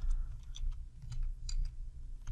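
Quick bursts of keystrokes on a computer keyboard as text is typed, light clicks in uneven runs over a low steady background hum, close and fairly quiet.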